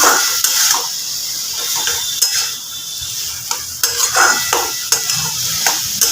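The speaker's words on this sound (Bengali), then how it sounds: "এবার আমি খুব ভালোভাবে ঘি গরম মশলা একসঙ্গে মিশিয়ে নেব" Ghee and garam masala being stirred together in a pan for a banana flower (mocha) dish, with a soft sizzle under repeated scraping and stirring strokes, close and steady, no talking.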